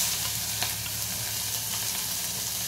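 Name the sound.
frying chopped onion with tempering seeds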